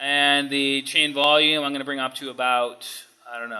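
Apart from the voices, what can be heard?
None of the usual background noises is heard.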